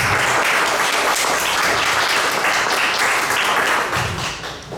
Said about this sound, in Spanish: García Higueras y al doctor Wilfredo Capsoli, para quienes les damos una cordial bienvenida con fuertes aplausos.